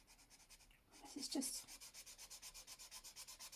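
A coloured pencil scratches across paper in quick, even back-and-forth strokes, close and quiet, with a brief heavier rub partway through and no talking.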